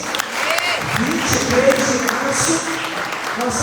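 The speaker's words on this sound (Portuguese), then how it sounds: "Você pode dar um aplauso a Jesus?" A church congregation applauds in a broad, steady wash of clapping that fills the whole moment, with voices and cheers mixed in and talk running underneath.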